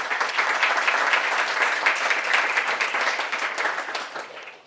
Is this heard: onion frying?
no